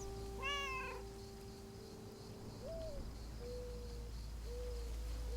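A cat meowing in the game Lake, a clear high meow early on followed by several shorter, softer mews spaced a second or so apart over a quiet insect-like ambient hum.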